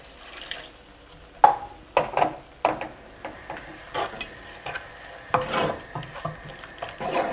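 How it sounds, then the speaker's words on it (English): A splash of water hits a hot pan of spices for cauliflower and potato curry and hisses, with sharp bursts of sizzling and a scraping, stirring clatter that continues as the sizzle settles. "Just a splash of water."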